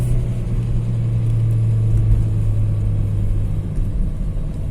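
A Peugeot 406 2.0 automatic running on LPG gives a steady, deep rumble from inside the car as it accelerates, with a low, even engine drone and no sharp rise in revs.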